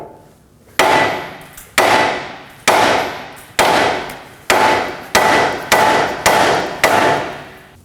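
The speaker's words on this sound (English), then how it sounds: "we're going to tap right in this area. That's going to pop the outer tie rod." Hammer striking the steering knuckle of an Acura MDX to pop loose the outer tie rod, eight sharp metallic blows at an even pace, each ringing briefly before the next, loud and close with no talk.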